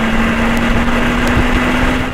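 The V6 of a 2020 Alfa Romeo Giulia Quadrifoglio sport sedan runs at a steady, loud, close drone with an even buzzing hum and no talk, holding constant throughout.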